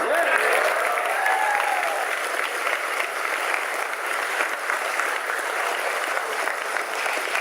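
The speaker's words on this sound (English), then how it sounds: "the loudest claps are for Dato' Sri Nizar" Audience applause, a steady wash of many hands clapping that holds at an even level throughout, with faint voices beneath it.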